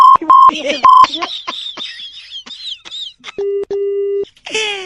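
A phone call on a comedy prank radio show is cut off, with beeping tones, a busy signal and a steady line tone after a burst of electronic chirps and squeaks, loud and close.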